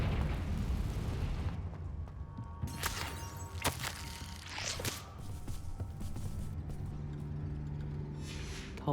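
Confringo fire spell in Hogwarts Legacy, a few sharp blasting bursts with crackling, fiery tails, followed by rumbling low debris and lingering ambient noise, no talk.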